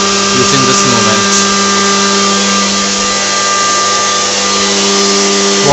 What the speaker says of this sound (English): The main motor turns on using this movement.